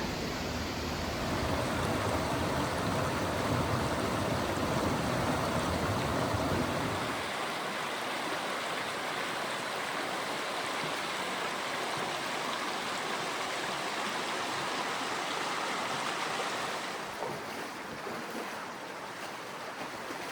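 Constant rushing of a waterfall in a slot canyon of The Narrows, Zion National Park, a dense roar close by that eases somewhat partway through and continues steadily to the end.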